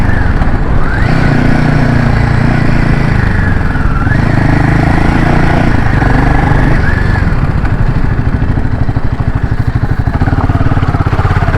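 A Royal Enfield Himalayan 450 motorcycle rides over a rough, broken road, its engine a loud close mid-pitched drone with clattering and shifting revs throughout.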